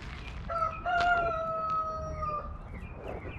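A rooster crows in a long, drawn-out call with a clear tone that rises and holds, then fades. It stands out near and loud over an outdoor background of steady noise.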